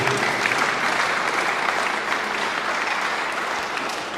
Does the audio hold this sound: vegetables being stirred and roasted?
no